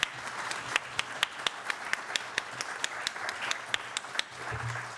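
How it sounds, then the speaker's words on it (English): Applause from an audience, with sharp individual claps standing out over a steady patter of clapping, fading slightly near the end. "big round of applause for our panelists."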